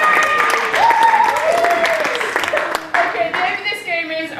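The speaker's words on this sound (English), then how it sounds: "Can you give me a clap for Michael and Frank again, please?" Audience clapping at an improv comedy show, a scattered crowd applause running throughout while a voice speaks over it and a whistle-like tone rises above the clapping.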